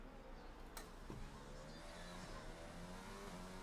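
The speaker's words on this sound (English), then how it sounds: "yet it's still going around the track" A Ferrari race car in a Monaco Grand Prix racing game drones around the track, its engine tone rising and shifting steadily, with a short sharp transient near the start.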